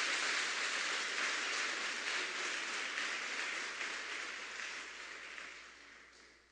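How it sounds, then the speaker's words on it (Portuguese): Applause from a church congregation during a sermon, a dense, even wash of clapping that holds steady and then fades out toward the end. "Você pode aplaudir o Senhor?"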